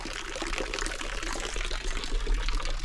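Running water pours and splashes steadily and close by, a continuous broadband rush lasting a few seconds.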